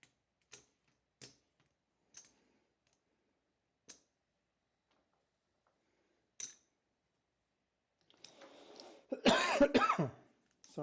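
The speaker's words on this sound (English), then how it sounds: "Sorry about the coughing." Someone coughing at a computer during a live game stream: a few faint, sharp ticks spaced apart, then a louder burst of coughing and throat clearing near the end, close to the microphone in a quiet room.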